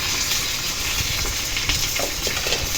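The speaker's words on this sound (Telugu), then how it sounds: "పచ్చిమిరపకాయలు, ఎండుమిరపకాయలు, తాలింపు గింజలు, కరివేపాకు వేసుకొని చట్నీ వేసేస్తున్నానండి" Green chillies, dried red chillies, tempering seeds and curry leaves spit and sizzle in hot oil, a loud, close, unbroken hiss with bursts of crackle and faint stirring, no voices.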